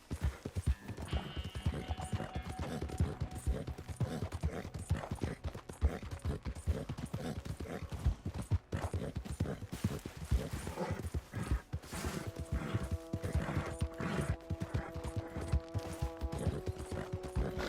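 A horse gallops in Red Dead Redemption 2, its rapid hoofbeats drumming continuously with rattling tack and brief musical tones.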